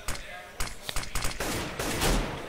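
A decoy grenade in Counter-Strike mimics gunfire with a string of sharp, irregular pops and short bursts, fairly close, mixed with game background noise.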